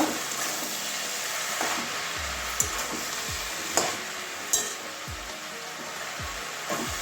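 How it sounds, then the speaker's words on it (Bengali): Water spinach greens with spices being sautéed in a pan, with a steady sizzle and repeated scraping stirs and clinks of a spatula, close and fairly loud, no talking. "এবারে আবারও কষাবো শাকের সঙ্গে ভালো করে মানে মশলার সঙ্গে ভালো করে শাকটাকে কষিয়ে নেব"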